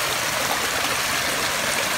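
Water spills steadily over the edge of a leaking backyard pond, a close, even rush and trickle with no pauses or voices.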